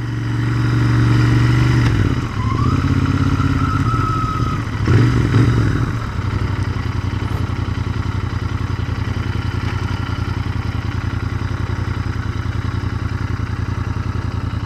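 A 2021 Royal Enfield Continental GT650 twin idles close and loud with a steady, throbbing beat. A couple of short revs in the first few seconds are followed by a long, even idle.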